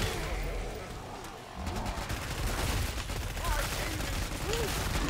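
Rapid automatic bursts from a Mac-10 submachine gun in the shooter game Killing Floor 2, a continuous fusillade of gunfire with crackling fire effects, loud and sustained over game noise with some speech-like sound mixed in.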